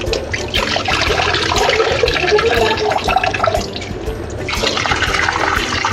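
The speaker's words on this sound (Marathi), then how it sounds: "आपण तीन ते चार वेळा हे डाळ पण धुवून घेणार आहे" Lentils are washed by hand in a bowl of water while being rubbed, giving close swishing, sloshing and trickling that keeps going throughout with no talking.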